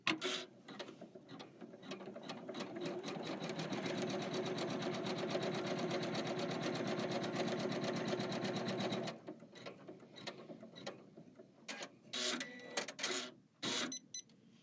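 An embroidery machine runs steadily for about nine seconds stitching a placement line at the top of a hooped design, a rapid even mechanical whir, then stops and leaves scattered clicks and handling noises.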